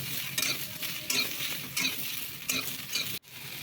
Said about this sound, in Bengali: ডাঁটা আলু একসঙ্গে ভেজে নিয়ে একটা টমেটো দিয়ে দিলাম